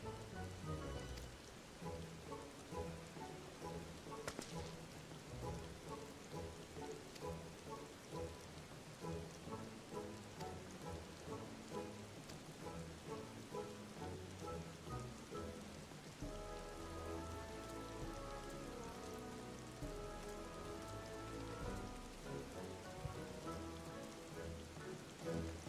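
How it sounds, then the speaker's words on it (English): Steady rain falls in Final Fantasy XIV, with dense pattering drops on surfaces continuing throughout under soft game music, with no talking. "It's still raining."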